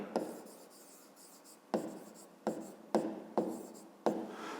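Handwriting on paper during a fifth-grade maths exercise: a series of short scratchy pen strokes, about six distinct bursts spaced irregularly, close and fairly quiet with no talking.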